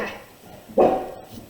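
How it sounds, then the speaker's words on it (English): A single dog bark heard indoors at moderate distance, one sharp bark standing out above a quiet room. "the dog scared me."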